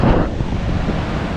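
A rising river rushes below Jogini waterfall near Vashisht village, Manali, in Himachal Pradesh, a loud, steady roar of churning water with gusts of wind buffeting the microphone and no voices.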